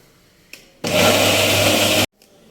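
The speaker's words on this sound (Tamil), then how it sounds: "தேங்காய் அரைக்கிறது" A kitchen mixer grinder whirs loudly and steadily as it grinds coconut for a spinach dish, running for about a second and a quarter before cutting off abruptly, with a faint click just before it starts.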